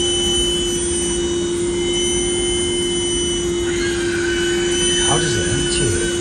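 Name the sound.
suction machine emptying a toilet, like a hoover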